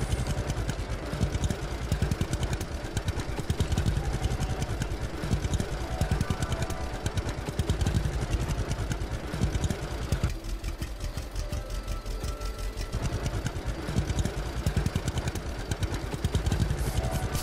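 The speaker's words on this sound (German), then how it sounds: "Jetzt bewegt sich der Traktor auch nicht mehr." Tractor engine in the game Lumberjack's Dynasty, idling with a rapid, steady, rough knocking rhythm, loud and continuous with a slight change in tone partway through; no talk.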